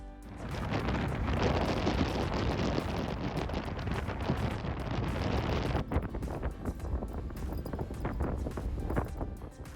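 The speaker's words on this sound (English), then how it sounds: "The wind is really got up in today. I think it's gusting at like just over 30 miles an hour." Strong wind gusting at just over 30 miles an hour buffets a VW campervan parked along the NC500 coast in Scotland, a loud, continuous roar with rough rushing surges throughout, easing slightly in the last few seconds.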